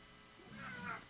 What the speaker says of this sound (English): my cat is going nuts right now